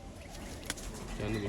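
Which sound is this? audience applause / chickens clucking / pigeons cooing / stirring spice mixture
pigeons cooing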